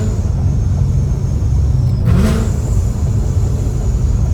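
Ford Mustang GT with a catless exhaust gives a steady loud engine rumble that swells into a brief rev around the two-second mark on a downshift, then settles back to a constant drone.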